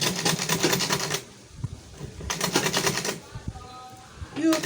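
Butterfly manual sewing machine stitching a handbag, two bursts of rapid, even mechanical clatter with a pause between, close and fairly loud, plus brief fainter whirs and a short voice near the end.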